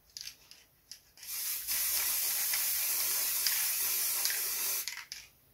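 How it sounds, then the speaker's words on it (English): A spray can lays down satin black paint in one steady hiss lasting a few seconds, preceded by a couple of short test bursts and ending with a brief tail, close and alone. "I've sprayed that with satin black."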